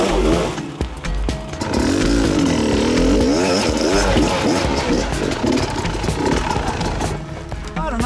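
An enduro motorcycle engine revs hard on a hillside, loud and close, its pitch rising and falling in throttle surges with some clatter throughout.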